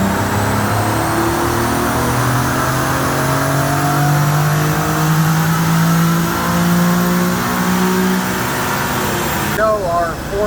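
A Nissan 350Z engine running on a dyno with fuel additive circulating, a loud sustained drone whose pitch wavers and rises and falls, then fades near the end.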